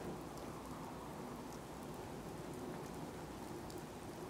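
Steady rain pours in the video game Fallout 4, a dense, even wash of drops with a low rumble beneath, faint and constant throughout, no talk.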